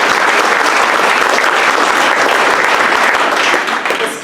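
Audience applause at a mayor's oath of office ceremony in Salinas, California, a loud, dense, sustained wash of clapping from a crowd that tapers slightly at the end.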